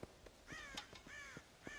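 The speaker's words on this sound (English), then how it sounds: "God damn crows!" Crows caw repeatedly in the video game Red Dead Redemption, a quick run of harsh, ragged calls that are clear and fairly close, with no talking.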